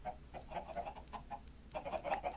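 Chickens in the video game Minecraft cluck in short, quiet bursts, with a pause midway before a denser run of clucks.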